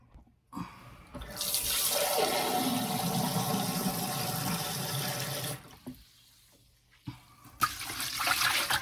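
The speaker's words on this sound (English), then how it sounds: "all we have to do now is add 5 litres of water into this." Five litres of water gush steadily into a container for several seconds, a loud close rushing pour that stops abruptly, followed by a few brief knocks and splashes.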